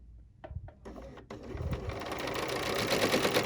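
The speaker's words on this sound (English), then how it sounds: "I'm going to start by lowering my presser foot down and bringing up my needle and thread" A home sewing machine with the presser foot lowered starts with a few separate clicks, then runs into a steady whirring stitch rhythm that grows slightly louder, close up and with no talking.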